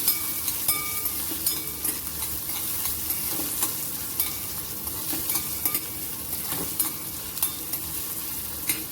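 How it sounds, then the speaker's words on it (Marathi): Finely chopped onion sautéing in oil in a pan, for a momo filling: a steady, crackling sizzle with frequent clicks and scrapes of stirring, heard close up with no talking. "आता आपण कांदा परतून घेऊया."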